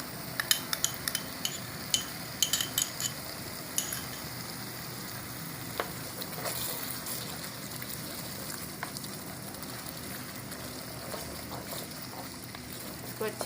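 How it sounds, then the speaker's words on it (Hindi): Yogurt masala frying in a pan for smoky kaleji gives a continuous sizzle, broken by sharp clinks and scrapes of a spoon stirring against the metal, with no talking. "इसको अच्छी तरह से अच्छा सा भूनना है।"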